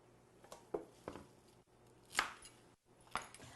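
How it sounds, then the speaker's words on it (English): Knife chopping through fresh beets on a cutting board, producing several separate sharp cuts spaced irregularly, close and fairly quiet with short pauses between strokes. "So I'm going to sit here and cut beets"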